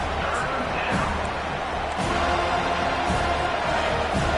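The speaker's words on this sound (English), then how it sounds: "This crowd bringing the energy and noise early." Crowd noise in a football stadium during an FSU versus Kent State game, a continuous broad roar with scattered louder surges and thumps, steady throughout.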